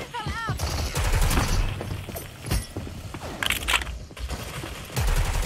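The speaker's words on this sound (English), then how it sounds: "Why the fuck is my own team throwing nades at me?" A dense barrage of gunfire and blasts from grenades thrown by teammates in a first-person shooter video game: rapid, loud cracks and booms close together, with a voice talking over parts of it.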